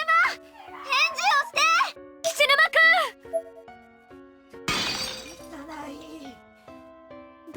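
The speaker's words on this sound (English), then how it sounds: "They hear the cracking of glass and head back" In the horror video game Corpse Party Blood Drive, glass cracks and shatters in one bright burst midway, following a young character's pained, anguished cries and followed by further voiced dialogue.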